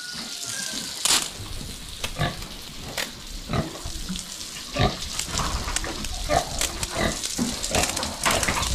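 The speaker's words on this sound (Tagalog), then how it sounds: "Ito po yung baboy natin." Pigs on a farm grunt and squeal in repeated short bursts at an irregular rhythm, close and fairly loud, with running water audible underneath.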